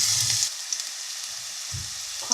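Onions dropped into lightly heated olive oil give a soft, steady sizzle with faint stirring, low and close, with no voices over it.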